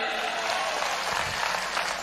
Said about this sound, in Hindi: तालियां इनके लिए, तालियां।